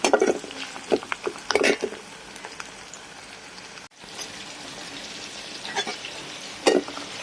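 Chopped onion and garlic crackle and sizzle in hot oil in a pan while being stirred, with a steady close frying hiss and occasional louder bursts and scrapes from the spoon.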